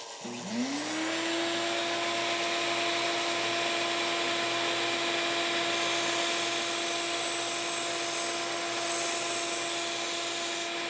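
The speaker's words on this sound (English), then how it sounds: "now the next step is to swap the belt and just get a little bit of a cleaner bevel on here" A belt grinder spins up with a rising whine, then holds a steady loud drone with gritty rubbing as it refines the bevel on a badly chipped Shun kitchen knife.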